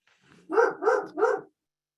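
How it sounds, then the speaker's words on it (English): An excited dog lets out three quick, evenly spaced barks at moderate distance, each short and sharp, with silence before and after. "I don't know what the dog's on to. He's really excited about something."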